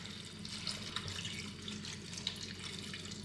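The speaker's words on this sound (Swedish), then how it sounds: "Vi ska hälla vatten på det här." Water poured into a glass bowl while making kimchi, a steady close splashing trickle with a few faint drips, heard alone without talk.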